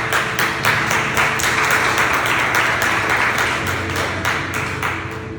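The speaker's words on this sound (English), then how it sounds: "You give yourself a big round of applause." A steady wash of audience clapping fills the room at an International Women's Day event, with many hands patting continuously and evenly throughout, slowly easing toward the end.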